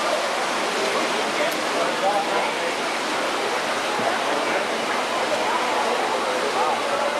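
A stream flows beneath a walleye hatchery, producing a steady broadband rush of moving water, even and uninterrupted throughout.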